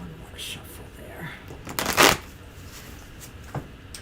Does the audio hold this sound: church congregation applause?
no